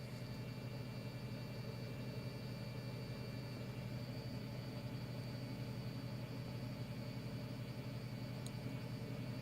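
A Tata Altroz petrol engine idles quietly and evenly, a faint steady hum with a thin fuel-pump whine over it and no talk.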